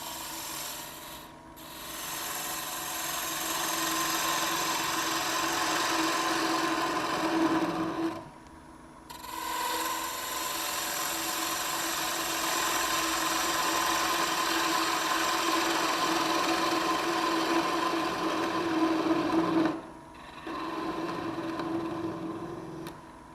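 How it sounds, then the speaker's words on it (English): A 3/8 inch spindle gouge cuts wood spinning on a lathe, giving a steady, loud rasping scrape that runs continuously, with two brief pauses where the tool lifts off. "I'm going to crank the speed back up. And I'm using a 3/8 inch spindle gouge to clean this off"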